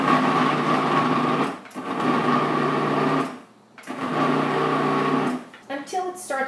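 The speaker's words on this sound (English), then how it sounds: "I'm going to pulse that." Food processor pulsing unsalted butter into a dough mixture for rugelach, loud motor whir in two long bursts of about 1.5 seconds each, then a few short pulses at the end.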